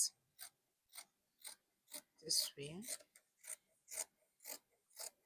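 Scissors snip through jumpsuit fabric in a steady, evenly spaced series of crisp cuts, close and fairly quiet, with a brief spoken phrase in the middle.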